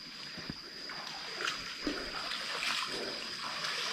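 At Nang Non waterfall in Yasothon during a low-water season, thin water trickles and splashes steadily at a modest, even level with a few soft gurgles.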